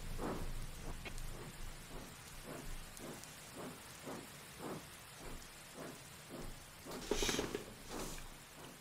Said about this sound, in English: A nice place to get out of this dreadful rain.